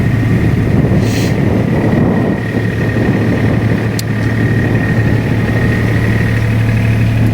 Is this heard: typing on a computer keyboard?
no